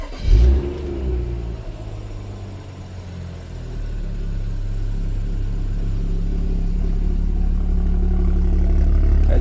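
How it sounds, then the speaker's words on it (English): A BMW 335i engine cranks and catches with a loud thump, then settles into a low, uneven idle that slowly builds in loudness, rumbling steadily close by with no talking. "So now it's time to start the car. I expect it to like rough idle for a while."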